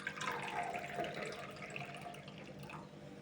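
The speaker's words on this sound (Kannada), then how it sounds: "ಇಷ್ಟು ಒಂದು ವಾಟ್ಗ ನೀರು ಹಾಕ್ತೀನಿ ರೀ." Water poured steadily into a bowl, making sugar syrup for MTR gulab jamun; a continuous, fairly loud splashing stream that thins slightly toward the end, with no talking.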